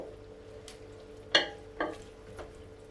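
Spinach being stirred into a pan of chicken curry, with a few soft scraping strokes of a spoon against the pan over a faint background simmer.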